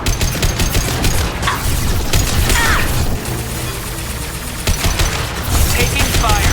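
Steady gunfire in a Mass Effect 2 sci-fi shooter battle, continuous loud crackling shots and impacts layered over a dense combat background throughout.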